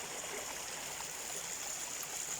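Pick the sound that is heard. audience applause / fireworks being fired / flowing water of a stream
flowing water of a stream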